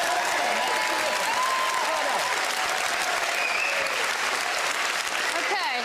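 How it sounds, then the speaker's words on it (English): A studio audience at a televised IQ test results show applauds strongly and continuously, a dense wash of clapping with a light murmur of crowd voices underneath. "Give me a huge round of applause."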